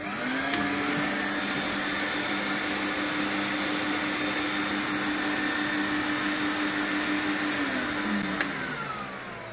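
A Record Power Camvac wall-mounted dust extractor for woodworking runs with a steady, loud motor whine and rushing airflow, constant throughout and close by, with no talk.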